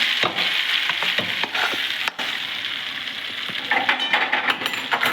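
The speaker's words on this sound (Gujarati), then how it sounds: "હવે આ વઘારને આપણે આ ખીરાની અંદર નાખી દઈશું" Hot sesame tempering poured into vegetable handvo batter in a kadai, a loud sizzle and crackle with some stirring and utensil clatter, no talk.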